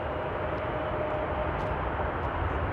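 Airliner engines spool up at Frankfurt Airport in frosty winter weather, a steady, dense broadband roar at moderate distance that holds level throughout, with no voices over it.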